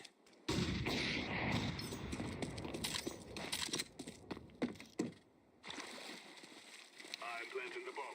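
Rapid gunfire bursts in the video game Counter-Strike 2, sharp cracks clustered over several seconds against a busy game background, with a brief lull before more activity resumes.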